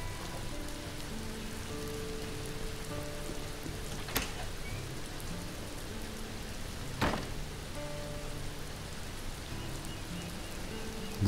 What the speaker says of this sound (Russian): Пока дождь льется,